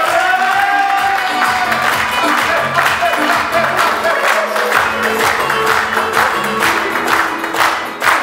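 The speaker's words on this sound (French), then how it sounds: "je vous demande un tonnerre d'applaudissements pour les responsables d'animation" Audience applause at a holiday-resort cabaret show in Mont-Dore, loud sustained clapping from a crowd with some cheering, rhythmic pulses suggesting partly synchronized clapping over background music.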